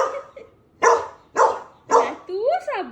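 A dog barks three times in a steady rhythm, loud and close, followed by a short whining yelp.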